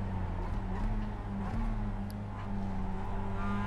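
Simulated Mazda MX-5 Cup race car engine in iRacing, a steady loud drone with the throttle lifted and reapplied, pitch dipping and rising briefly around mid-clip, no talk.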